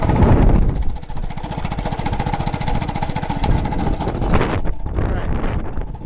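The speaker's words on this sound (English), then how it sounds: "that engine sounds pretty rough. Listen to that dang clutch too," A Monter Moto MMB80 gas minibike engine runs rough with a fast, uneven chugging putter and a rattling clutch, loud and close to the microphone, with wind buffeting over it.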